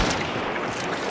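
A dense burst of rapid gunfire from a video game, harsh and noisy, crackling continuously over about a second with no speech.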